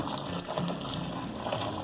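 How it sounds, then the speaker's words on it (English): Water pours steadily into a kettle of beef soup, a continuous near gush and trickle with no talking. "The rest of my water will go in."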